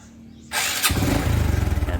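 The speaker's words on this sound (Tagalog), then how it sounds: "subukan muna natin patayin itong makina at paanda rin na natin sa push button" A motorcycle that had been flooded in water is started with the push button: a short starter whir halfway through, then the engine catches and settles into a loud, close, pulsing idle.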